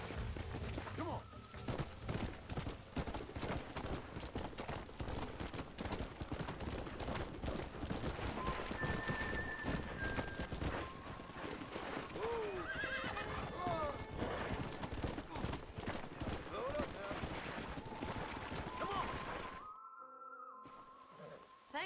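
Horses from the Red Dead Redemption video game, with hoof clip-clop and whinnying mixed into a busy game soundscape, voices talking over much of it, before a brief drop to near silence at the end.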